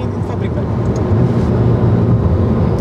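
The exhaust of an Alfa Romeo Giulia 2.0 turbo saloon, heard from inside the car while driving, gives a loud, steady low drone with road and wind rush, and people talk over it.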